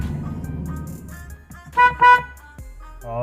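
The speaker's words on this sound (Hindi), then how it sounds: "गाइस आप देख पा रहे होंगे हॉर्न बढ़िया से वर्क कर रहा है।" A Maruti Alto K10 car horn pressed from a steering-mounted control gives two short, loud honks close by, after low engine and cabin rumble with light clicking.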